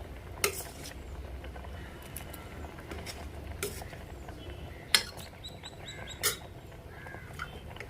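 Vegetables dropped into a pot of boiling khichuri, a few soft splashes and clinks of utensil on metal spaced apart, faint and close over quiet bubbling with light chirps in the background.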